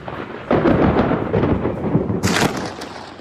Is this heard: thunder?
yes